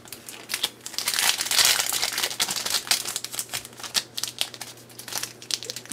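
A small Yu-Gi-Oh battle pack foil wrapper is crinkled and torn open close up, with dense bursts of crackling foil that swell, peak and then break into shorter rustles.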